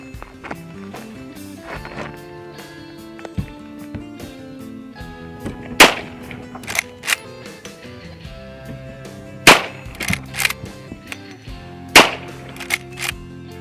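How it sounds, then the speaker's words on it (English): Sharp rifle reports from a Winchester 1892 SRC lever-action fired standing at a bucket 100 yards away ring out several times, loud cracks spaced irregularly over a quiet outdoor background. "Alright, so there were some shots there standing at 100 yards."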